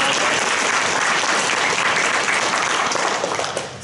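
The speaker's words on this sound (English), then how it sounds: "Give him a round of applause." An audience breaks into a steady round of applause, dense clapping filling the room evenly from start to finish before tapering slightly at the very end.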